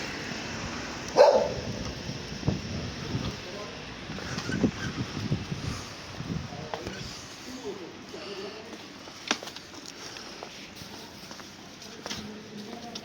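A dog barks in short excited bursts early on at other dogs, then yelps more sparsely amid wind noise and people speaking nearby on a cold winter morning.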